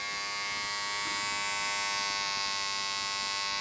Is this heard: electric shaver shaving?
yes